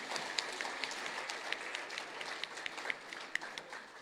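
A gathering at a strategic plan launch gives a documentary team a round of applause, heard as faint, distant clapping with a few sharper individual claps standing out.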